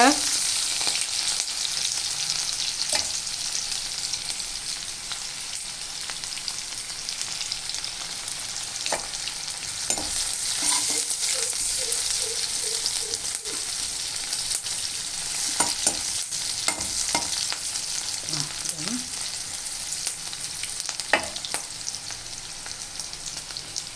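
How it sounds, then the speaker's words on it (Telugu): Onion pieces fry in hot oil in a pan for a prawn curry while being stirred: a steady close sizzle runs throughout, with scattered clinks and scrapes of the spoon against the pan and no talking. "ఉల్లిపాయ ముక్కలు వేసుకుంటామండి. ఇవి వేగాక"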